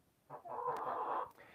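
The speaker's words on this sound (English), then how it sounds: "Like this guy, he's a male goose." A male goose at bird feeding time gives one drawn-out, nasal call lasting under a second, close and fairly loud in an otherwise quiet moment.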